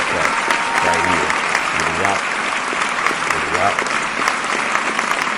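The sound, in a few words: applause sound effect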